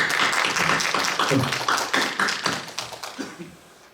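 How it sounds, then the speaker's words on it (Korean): Audience applause at a Korean traditional music (gukak) forum in Seoul, following a panel discussion: dense clapping from a crowd, steady at first and then thinning out and fading over several seconds. "큰 박수 부탁드립니다"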